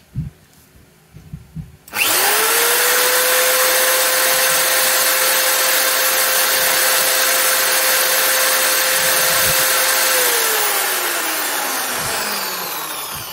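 A Yasuka wall drill revs up from silence to full maximum speed, holding a steady loud high whine for about eight seconds before slowly winding down; a few faint clicks precede startup.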